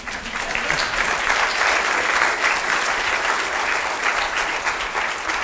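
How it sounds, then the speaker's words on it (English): Audience applause in a lecture hall honoring Euler, a dense, sustained clatter of many hands clapping at even loudness throughout, with no voices on top. "I will pass your applause to Professor Euler, who deserves it"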